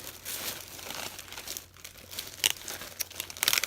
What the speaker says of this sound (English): excuse for the crinkling here